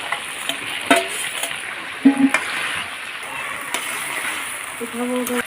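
Chicken and potatoes sautéing in oil in a home kitchen, a continuous close sizzle broken by spoon scrapes and clinks against the pan, with a voice talking over it.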